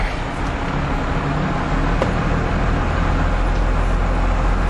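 A 1996 2500 CTD diesel truck with a five-speed gearbox pulls along in second gear, its loud, steady engine drone and road noise heard from inside the cab without a break.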